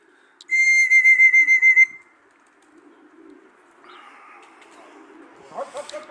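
A loud, steady high whistle blown in about eight rapid pulses at a pigeon race finish, followed by quieter background noise and faint bird sounds.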